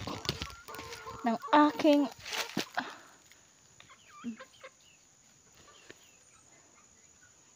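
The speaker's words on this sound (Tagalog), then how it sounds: "para makita ninyo paano ako magpapakain ng manok" Chickens cluck and squawk close by, loudest early on with a speaking voice mixed in, then scattered softer clucks continue over a faint steady hum.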